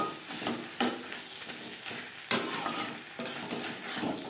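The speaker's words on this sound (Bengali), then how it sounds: "তিন 4 মিনিট লো টু মিডিয়াম ফ্লেমে মশলা কষিয়ে নেওয়ার পর দিয়ে দেবো শিম।" Flat beans dropped into spices frying in a pan over low to medium flame, giving a steady sizzle broken by sharp stirring and utensil scrapes.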